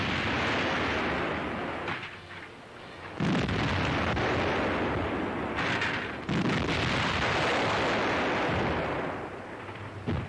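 Artillery fire from a 1942 German wartime newsreel, aimed at a Soviet bomber: loud, heavy booming blasts repeat over about ten seconds, with strong bursts near the start, around three seconds and around six seconds, each trailing into rumbling reverberation.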